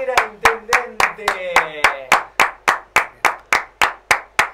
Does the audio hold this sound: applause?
yes